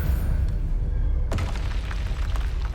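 An Expelliarmus spell blast from the Hogwarts Legacy video game: a single sharp, booming burst strikes partway through, cutting across a steady low rumble of game noise and followed by crackling, scattered debris-like rattles.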